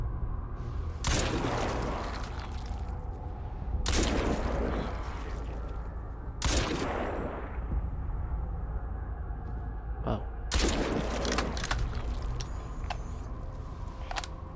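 Unsuppressed weapon fire in Crysis 2: four loud separate bursts of shots spaced a few seconds apart over a steady background hum, each burst sharp and broadband with a brief tail.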